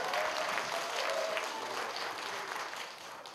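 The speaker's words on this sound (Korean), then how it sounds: "박수 부탁드립니다" Guests at a first birthday party clap in a steady burst of moderate applause that holds for a few seconds and then slowly thins out.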